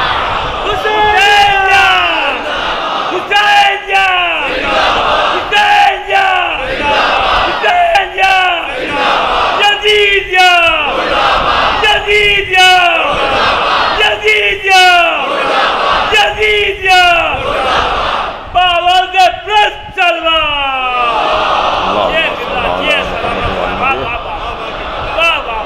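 Rhythmic religious slogan chanting at a majlis, an elder's leading call answered again and again by a loud crowd response in regular repeating waves, with a final sustained shout toward the end.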